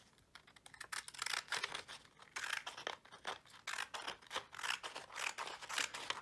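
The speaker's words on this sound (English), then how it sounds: "Maybe this is where I'll try these funky scissors here." Close, crisp snips of scissors cutting through paper in a quick irregular run of strokes, with no talking.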